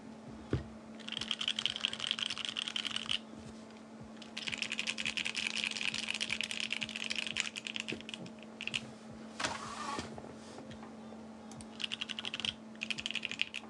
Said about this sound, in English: I like the sound of this board better